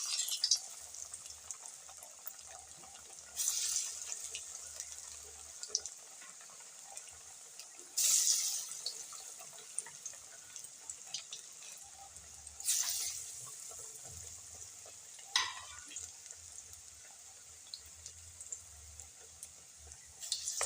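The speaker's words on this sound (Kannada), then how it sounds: "ನೋಡಿರಿ ಈಗ ಎಣ್ಣೆ ಕಾದೈತಿ, ಬಿಡ್ತೇನೆ ನೋಡ್ರಿ." Chana dal masala vada batter sizzles in hot oil on a low flame, a steady bright frothy hiss with several louder surges as pieces drop in, close and continuous, with no talking.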